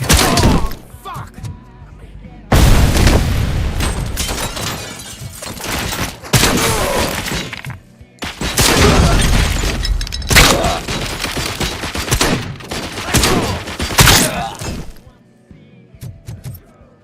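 Sustained gunfire in RoboCop: Rogue City, with loud dense volleys mixed with shattering and heavy thuds, broken by brief lulls.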